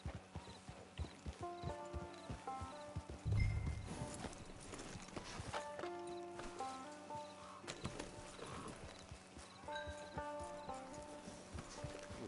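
Horse hooves clip-clop at a steady walking pace in Red Dead Redemption 2, fairly close and continuous, with a soft snort or whinny and game music tones layered underneath.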